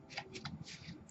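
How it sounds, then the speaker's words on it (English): Tarot cards being reshuffled in the hands, a brief riffling flutter of paper in a few quick bursts, close and quiet. "I've already shuffled these cards, but I'm going to reshuffle them."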